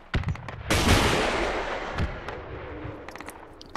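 Gunfire in the tactical shooter Project Reality aimed at a Humvee: a few sharp shots, then a heavy blast that rolls and decays over several seconds, with more scattered cracks trailing off at a distance.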